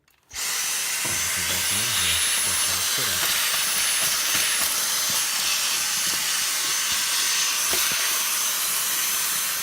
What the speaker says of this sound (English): So we got this little Dyson vac with an extension, and he's gonna turn on the plug.